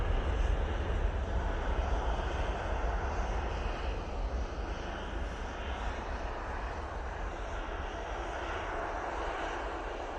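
Loganair regional jet departing Manchester Airport for Aberdeen, a loud continuous engine roar holding steady throughout with a slight easing toward the end.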